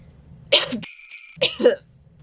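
Two sharp coughs close by, separated by a brief high ringing tone.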